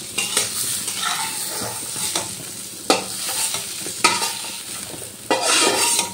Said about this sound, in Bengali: এবার আমি পটলগুলো ভালো করে ভেজে নেব